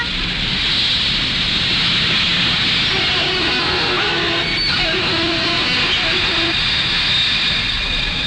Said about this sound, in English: I just know this is Newton's train, Montgomery.